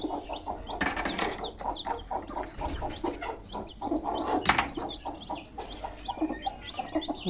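Hens cluck steadily in a farmyard brood with newly hatched chicks, their overlapping calls close and busy, mixed with thin high cheeping from the chicks throughout.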